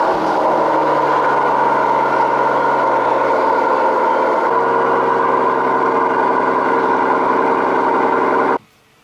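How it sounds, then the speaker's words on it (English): The V12 engine of a 2019 Mercedes S65 AMG S-Class fires up and settles into a loud, steady idle with a deep, even hum, then cuts off abruptly near the end. "So let's start the engine."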